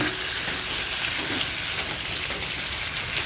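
Chicken pieces frying in a hot pan for Filipino chicken adobo: a steady, loud, continuous sizzle with no pauses and no speech.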